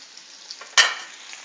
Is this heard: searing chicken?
yes